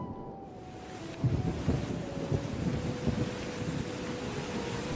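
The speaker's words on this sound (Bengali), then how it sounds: "রাত, প্রচণ্ড ঝড় বৃষ্টি, বাজ পড়ার আওয়াজ হচ্ছে, বাড়ি কেঁপে কেঁপে উঠছে।" A night thunderstorm with heavy rain and thunder: a steady, dense roar of rain throughout, with low rumbling thunder rolling in and swelling after the first second, loud and close.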